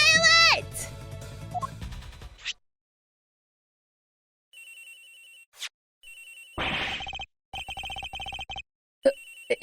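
A phone ringing in the Ace Attorney Investigations video game, repeated electronic rings in short bursts separated by gaps, loud and clear after a stretch of game sounds and silence.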